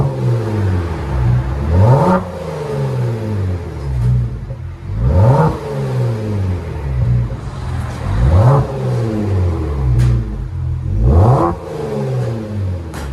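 A Kia Stinger GT with a 3.3L twin-turbo V6 and an aftermarket exhaust revs repeatedly, with four sharp throttle blips rising and falling over a deep, steady idle, loud and close.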